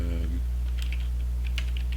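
Keys clicking on a computer keyboard while C++ code is typed, a few quick light taps over a steady low electrical hum.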